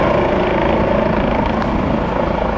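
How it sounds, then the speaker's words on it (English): A helicopter's loud, steady rotor thrum with a fast rhythmic chop runs unbroken throughout, close and alone with no talking. "H is for Helicopter."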